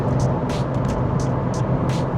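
A 2008 Seat Leon engine at about 4,000 RPM heard from inside the car, a steady droning hum blended with road and wind noise, constant and moderately loud throughout.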